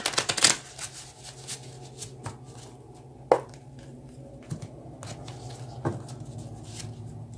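Tarot cards shuffled by hand in a quiet room, a series of soft papery riffles and taps with a few sharper clacks, close and fairly faint, with no voice.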